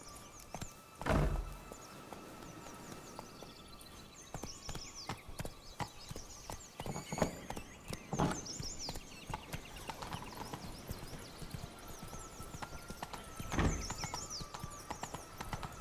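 Horse hooves clip-clop at a steady trot in the Witcher 3: Wild Hunt game world, rhythmic close hoofbeats interrupted by a few heavy thuds, with faint ambient sound around them.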